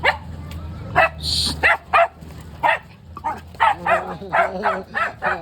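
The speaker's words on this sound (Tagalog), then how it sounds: "May mga aso." Several dogs bark in repeated short bursts, fairly close, with a whine or yelp mixed in and a low steady hum underneath.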